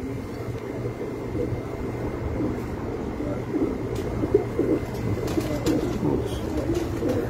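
Pigeons coo on a rooftop loft, a steady layered murmur of low throaty calls running throughout, with occasional sharp clicks and flutters over a constant background hum.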